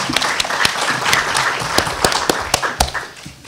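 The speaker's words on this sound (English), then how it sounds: "So let's just give them a quick round of applause" Audience applause for the panelists at a San Diego Asian Film Festival breakout session, a brief, fairly close round of clapping with a few sharper claps standing out, mixed with faint background noise.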